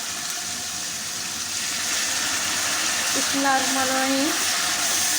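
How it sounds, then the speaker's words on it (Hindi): Hot oil sizzles steadily as minced beef goes into the pan of tempering, the hiss growing louder partway through, with a brief tonal whine near the end. "अब हमारा जो तड़का हो चुका है तो इसमें हम अब कीमा डाल देंगे।"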